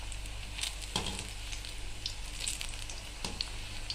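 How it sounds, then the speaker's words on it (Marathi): Sweet corn fritters deep frying in hot oil over a medium flame, a steady, dense crackling sizzle with a few brief louder pops, continuous and close. "पूर्ण गोल्डन ब्राऊन होईपर्यंत दोन्ही बाजूंनी हे भजी जे आहे ते तळून घ्यायचे"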